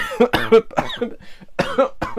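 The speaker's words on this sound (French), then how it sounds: "je tousse" Several harsh, close coughs in quick bursts, separated by short pauses.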